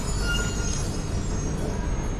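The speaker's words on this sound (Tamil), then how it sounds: "மெட்ரோ வந்துட்டு, இது வந்து சர்க்கிள் லைன்." A Singapore MRT Circle Line metro train, heard as a steady loud rumble of wheels on track with broadband rolling noise throughout, no voices.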